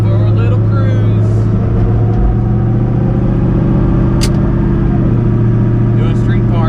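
A single-turbo car engine hums steadily from inside the vehicle, a constant low drone while driving, with no voices.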